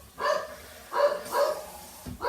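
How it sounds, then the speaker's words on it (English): A pet dog barks at the mail carrier or people in the street in a kitchen setting, giving three or four sharp, fairly close bursts separated by short pauses. "She loves to bark at people in the street."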